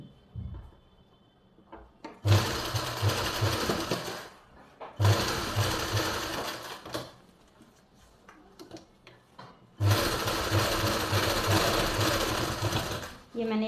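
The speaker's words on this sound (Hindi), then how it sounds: "इस तरह से तो यहाँ से आधा इंच का मार्जिन लेते हुए सिलाई लगा लेंगे।" Sewing machine stitching the seams of a pleated suit, running in three loud bursts of steady rapid clatter separated by quieter pauses with small handling sounds.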